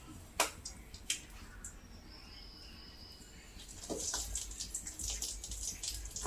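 Chicken leg pieces drop into hot oil and deep-fry. After a few soft knocks, a steady crackling sizzle builds in the second half and stays fairly quiet and close.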